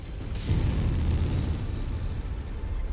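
Distant explosions rumble through a MechWarrior 5: Mercenaries battle, a sustained low booming roar that swells after a brief lead-in and keeps rolling steadily with no talk.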